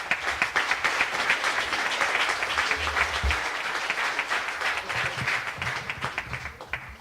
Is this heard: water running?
no